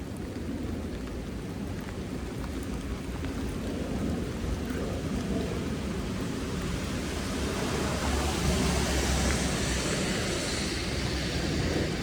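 Heavy rain pours on a city street, a dense steady hiss with a deep rumble that swells slightly toward the end, with no talk over it.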